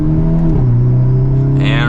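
A Hyundai Elantra N with a dual-clutch gearbox accelerates, its engine a steady close drone that climbs slightly in pitch. A voice talks over it.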